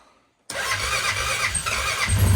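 A Honda Rubicon 500 ATV engine bursts into life after a short silence, cranking and catching into a loud, steady running rumble with a rising throaty note toward the end, close by.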